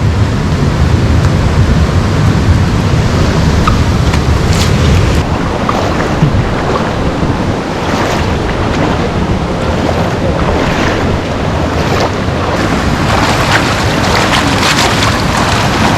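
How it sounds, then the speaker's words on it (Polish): Fast-flowing river water rushing steadily and loudly close by, a broad continuous roar with wind buffeting the microphone at times and no talk over it. "Woda wartka."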